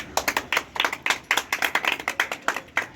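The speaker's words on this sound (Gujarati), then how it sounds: "તો બધા માણસો તાળીઓ પાડો અને આપણે ઇનામ આપી દઈએ" A small group claps for a challenge winner, a brisk, close run of about twenty sharp hand claps over three seconds, slightly uneven in rhythm, with no talking.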